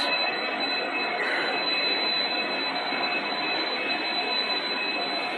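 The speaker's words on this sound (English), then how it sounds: "It's a local train." Local train running on the Bhubaneswar–Cuttack route in India, a steady broadband rumble and hiss of moving carriages with a faint high tonal whine, continuous and fairly loud throughout with no talking.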